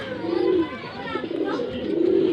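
Pigeons coo in soft, rolling calls close by, several low throaty phrases repeating across the moment while a voice murmurs faintly in the background.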